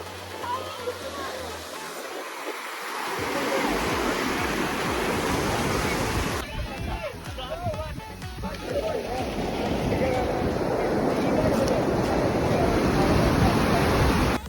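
Sea waves wash ashore at Chavakkad beach in the evening, a steady broadband surf roar that fills the whole clip and swells slightly louder toward the end, with faint voices blending in.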